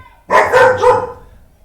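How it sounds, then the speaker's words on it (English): A nearby dog lets out a loud, quick burst of two or three barks that run together, then fades to quiet. "sorry, my dog is a bit scared of"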